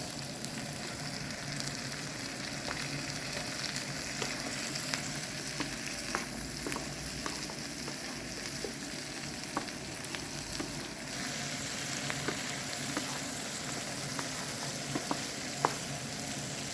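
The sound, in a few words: chopped red and green peppers frying in a pan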